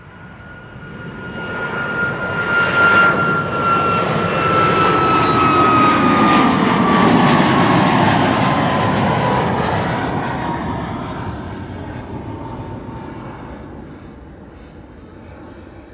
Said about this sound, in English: United Flight 21 to Houston is also coming this way. 767-300.